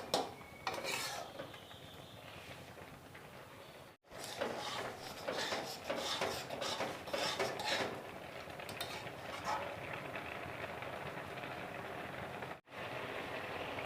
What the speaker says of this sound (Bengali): এভাবে নেড়ে নেড়ে দিতে হবে, না হলে নিচে ধরে যাবে।